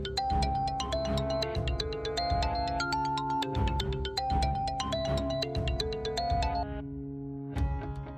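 A phone rings late at night with a melodic electronic ringtone of repeating chime-like notes, loud and close, playing continuously for several seconds before briefly pausing and starting again, with no talking.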